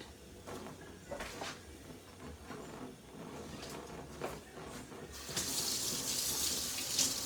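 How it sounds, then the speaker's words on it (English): A kitchen tap runs steadily over utensils being rinsed in the sink, a soft continuous splashing with a few clinks, swelling into a brighter, stronger gush near the end. "Dropping utensils, rinse them off."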